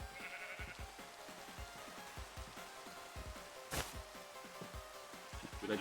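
Blocky Minecraft sheep bleat repeatedly in the video game, several short bleats spaced through a quiet, low-level backdrop with faint game ambience and a brief sharp burst midway.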